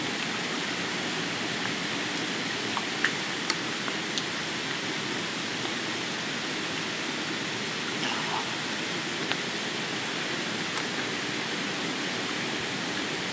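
Water runs from a village water tank near a waterfall, a constant rushing hiss that stays level and near throughout, with a few faint clicks on top.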